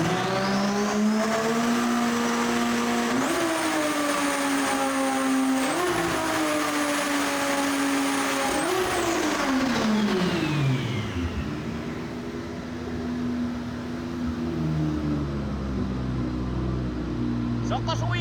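A car engine, freshly fitted with new seals, runs close by and revs up three times in rising sweeps. It then drops back and settles to a lower, steadier idle.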